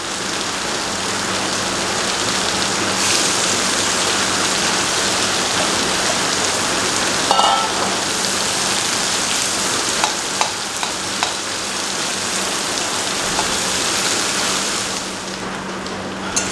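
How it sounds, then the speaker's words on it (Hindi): Sliced onions and black cumin seeds frying in a pan, a dense continuous sizzle with occasional scraping stirs, close and loud, no talking. "प्याज को तब तक फ्राई करते रहिए जब तक वो ब्राउन ना हो जाए"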